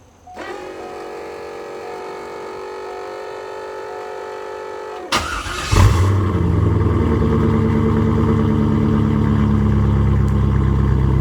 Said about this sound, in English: I can set it like right here as I fire up the car